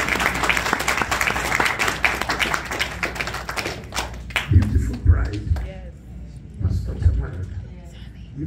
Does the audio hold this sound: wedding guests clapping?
yes